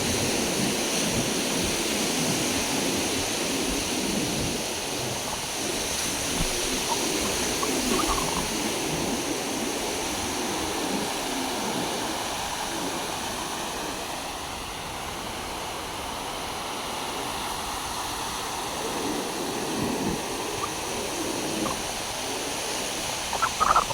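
Ocean waves wash steadily onto a beach, a continuous roar of surf mixed with gusts of wind buffeting the microphone, with no voices throughout.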